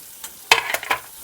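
Chopped onion dropped into hot oil with chili paste, giving a sudden sizzling burst that crackles in a few quick spurts, close and fairly loud.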